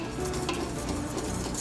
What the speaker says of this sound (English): And just keep whisking.